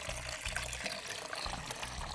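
Coconut water poured straight out of an opened young coconut, a steady close splashing pour with no talking.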